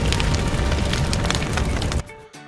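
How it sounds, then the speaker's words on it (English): A forest fire roars loudly and close, with dense crackling and popping over a deep rumble for about two seconds before it cuts off abruptly. "Look at this forest fire."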